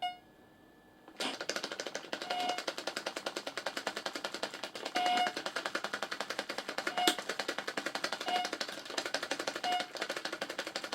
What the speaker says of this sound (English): the only thing that tells you you've got to breathe is a little beep